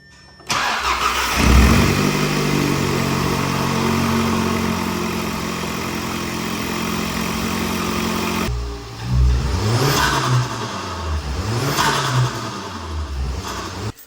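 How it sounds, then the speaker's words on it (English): An Audi A3 turbocharged engine starts and idles steadily, then revs repeatedly in rising and falling surges, loud and close, with no talking. "This is my first turbocharged car, so me hearing this turbo for the very, very first time was so great."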